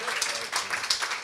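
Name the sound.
live podcast audience applause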